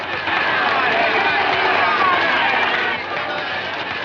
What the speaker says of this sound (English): Listen to them, boy, listen. What a crowd.